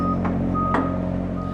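Semi-truck hauling about 8,000 pounds of donated Thanksgiving turkeys, with a steady low engine rumble and brief repeated beeps over it, close and fairly loud.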